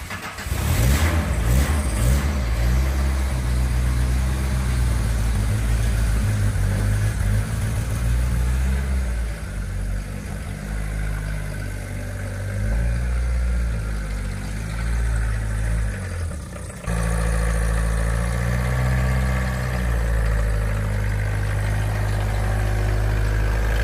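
A Fiat 125p 4x4 with a 1.9 diesel engine runs nearby, a steady low clattering drone with rising and falling revs and a brief dip partway through, loud and continuous throughout.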